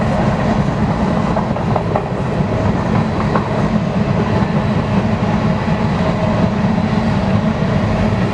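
BNSF Railway eastbound grain train led by engine 5782 rolling past in Spokane Valley, Washington, a loud steady rumble of freight cars with faint clickety-clack throughout, no voices.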